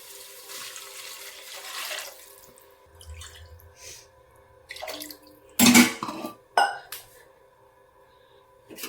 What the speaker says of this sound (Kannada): ಈಗ ನಾನು ನೀರು ಹಾಕ್ಕೊತೀನಿ ಅದಕ್ಕೆ.